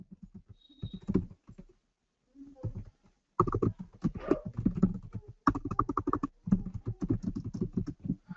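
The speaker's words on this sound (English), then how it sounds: "I'm just typing this." Fast clicking keystrokes on a computer keyboard, close by, typed in bursts with a couple of brief pauses between them.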